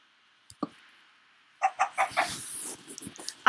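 A chicken in the video game Minecraft clucks in a few short, separate bursts, then a quick run of clucks and squawks, fairly close and with no talk over it.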